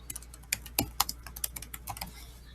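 Keys on a computer keyboard tapped in a quick irregular burst while an answer is typed into a Google Classroom question, close and clear with no talking.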